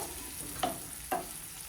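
Tomato sautés in oil in a pan for Gujarati aloo palak, a soft, steady sizzle close by, broken by two quick scrapes of a spoon stirring the pan.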